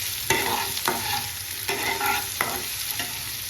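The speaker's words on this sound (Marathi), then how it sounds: "आणि आता कांदा टाकायचा. कांदा मस्त भाजून घ्यायचा व्यवस्थित." Chopped onion fries in hot oil with curry leaves for a spicy Maharashtrian vermicelli snack, a continuous close sizzle broken by several sharp scraping stirs of a spoon against the pan, with no voices.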